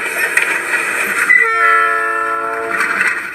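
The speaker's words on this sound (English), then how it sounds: "They'll spend days clinging to cargo trains as they grind through southern Mexico up toward the US border." A cargo train grinds through southern Mexico with a steady rumble, and its horn sounds a long, sustained blast partway through. The sound is close and fills the scene; no one speaks.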